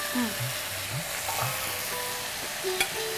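Eggplant fries and sizzles in a pan for a Bengali dish as it gets stirred, a soft steady crackle under faint voices and a few light clinks.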